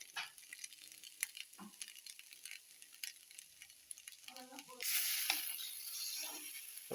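Small rice-flour kozhukattai dumplings with chili powder are stirred in a pan: scattered scrapes and soft clinks at first, then a louder, steady frying sizzle takes over, close and continuous.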